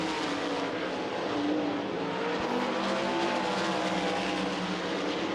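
360 sprint cars race wheel to wheel at I-80 Speedway, engines roaring loud and continuous from start to finish as a dense pack of cars passes close.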